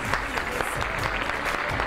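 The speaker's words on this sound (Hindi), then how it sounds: "भरपूर तालियों में आबदा राही।" A studio audience on a television talk show applauds to welcome a guest, a brief burst of continuous clapping that stays loud and even across the moment.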